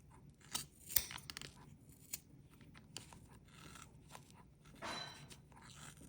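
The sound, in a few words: scissors snipping crochet yarn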